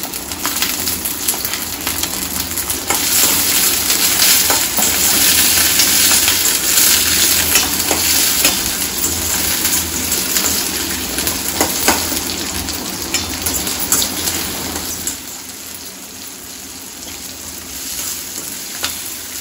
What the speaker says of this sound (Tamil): வெங்காயம் நல்லா வதங்கிக்கணும்